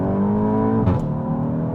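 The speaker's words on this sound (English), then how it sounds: "if we do like a second gear pull" VW Golf GTI MK8 Stage 3 engine pulling hard in second gear, a loud, close, rising drone with a brief shift-like break midway before the steady, throaty acceleration resumes.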